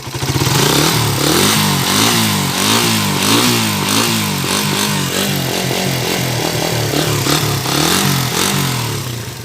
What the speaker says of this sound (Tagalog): Medyo may magaspang ang andar niya.